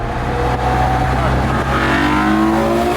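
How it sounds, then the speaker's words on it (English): The V12 engine of a Ferrari GTC4 Lusso roars loud and close under acceleration, its pitch rising steadily as the revs climb, with a dense, continuous snarl and a trace of voice beneath. "the noise that you can still get from that V12 is very entertaining"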